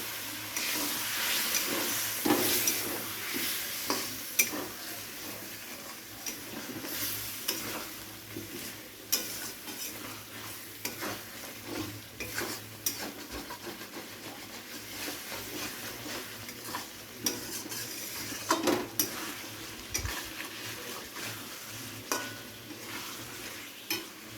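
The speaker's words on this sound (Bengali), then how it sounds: "জল দিয়ে মশলাটাকে আলুর সাথে খুব ভালোভাবে কিন্তু কষিয়ে নিতে হবে" Spice paste sizzles with potatoes and a splash of water in a pan for fish head curry, close and continuous, with frequent scraping stirs and clinks of a utensil against the pan throughout.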